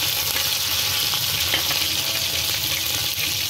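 Green chilies sizzle in hot oil while street-style desi chowmein is being cooked, a steady close broadband frying hiss with faint stirring clicks and no talking.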